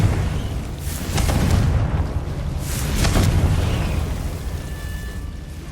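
Fiery Confringo spell blasts in the Hogwarts Legacy video game, two broad booming bursts roughly a second apart over a steady low rumble, loud and close, with no talking.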